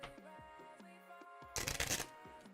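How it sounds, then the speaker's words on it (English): A deck of playing cards is riffle-shuffled on a table in one short, crisp, ripping burst, close and fairly loud over a faint steady hum. "I'll shuffle again on the table because I know that my camera has it."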